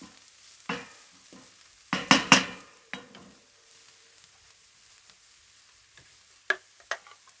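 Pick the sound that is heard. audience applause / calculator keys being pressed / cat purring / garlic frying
garlic frying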